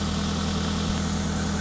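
A Mitsubishi Lancer Cedia engine idles steadily at close range, giving a constant low hum and rumble with no variation and no talking.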